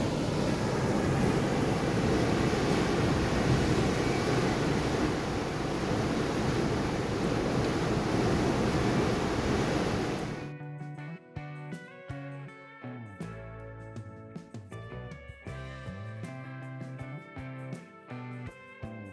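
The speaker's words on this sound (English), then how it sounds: "Dropping a lot of water out this lock." Water roars steadily out of a canal lock as it drains, a loud, even rush lasting about ten seconds before music takes over.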